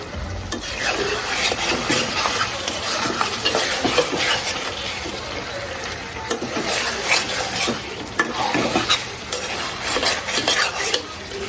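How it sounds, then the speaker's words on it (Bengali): Leftover fried beef reheats in a pan over a busy sizzle while a metal utensil scrapes and clinks against the pan in quick, uneven strokes close up. "কালকের গরু মাংস ভাজা একটু ছিল সেটা এখন গরম করছি"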